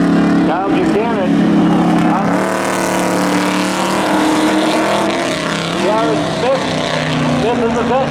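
Race cars roaring in a spectator drag race at Seekonk Speedway, loud sustained engine howls with rising and falling pitch sweeps as cars pass, under a commentator's voice.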